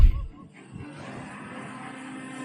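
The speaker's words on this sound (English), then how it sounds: "but I can tell that this elephant is pissed." An angry elephant lets out a loud, harsh trumpeting blast that opens abruptly and fades into a rough, rumbling wildlife din for the remaining couple of seconds.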